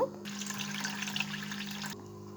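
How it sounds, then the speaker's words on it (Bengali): Somewhat less than a cup of rice being rinsed clean under running water, a steady gush of tap water splashing into a sink for about two seconds, then stopping abruptly. "এই চালটাকে আমি ধুয়ে পরিষ্কার করে নেব"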